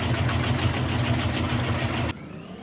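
Steady car engine from the Rocket League video game, a loud continuous droning hum with a rough low rumble that holds evenly for about two seconds, then cuts abruptly to a much quieter hiss.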